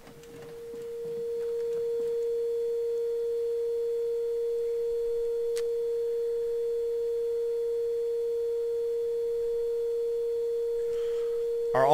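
A steady pure tone from a puzzle in the video game Ether One holds almost unbroken for about ten seconds, loud and clean, with a brief faint blip near the middle and a short rise at the very end.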